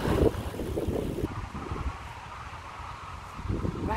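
Wind blows outdoors as a steady breathy rush with soft gusts, buffeting the microphone now and then, with no voices.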